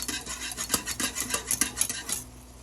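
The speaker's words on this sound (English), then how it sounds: "It's coming to a boil, so just keep stirring it." A spoon scrapes and clinks around a pot of thickening honey glaze for ham, about a dozen quick rhythmic strokes up close, then it settles into a quiet simmer.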